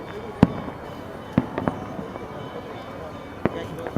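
Firecrackers bursting during a Makar Sankranti celebration: a few sharp separate pops, some distant and one closer, over a steady outdoor background murmur with people talking faintly.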